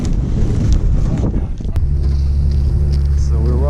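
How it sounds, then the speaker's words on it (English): A boat motor pushes forward through frozen water during the 2021 Texas blizzard. A deep, steady engine drone settles in after gusty wind buffeting, with rough water noise on top. "breaking the ice, got the motor thrusting forward"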